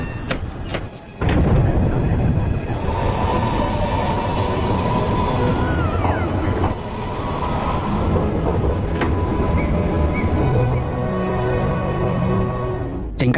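A high-speed bullet train departs, rolling steadily with a continuous rumble and rail clatter, close and loud, with faint squeals and clicks as it moves off.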